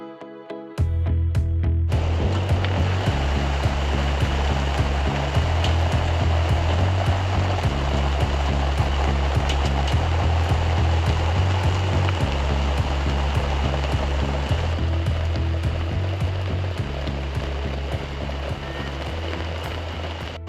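Heavy, steady downpour drums at a campsite, a dense, continuous roar of rain that holds at full strength with a faint low tone underneath, no voices.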